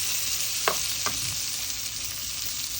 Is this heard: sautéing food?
yes